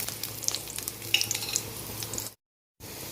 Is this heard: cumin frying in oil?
yes